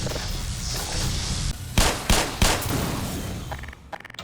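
Shotgun blasts in Half-Life Black Mesa: three loud, close booming shots about half a second apart over a low rumbling game background, followed by fainter clattering.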